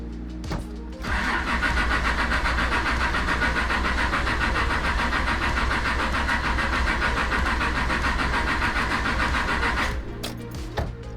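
Engine of a 1986 Mazda cranking and struggling to start, a steady loud churning that runs for about nine seconds before cutting off, with no voices.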